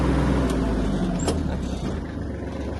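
Close by, a Japanese Kubota GL-25 mini tractor with its tiller lifted creeps along at minimum speed. Its engine keeps up a low, steady rumble with a couple of faint mechanical clicks over it.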